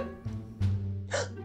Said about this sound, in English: They must be very strong hiccups if they lasted that long.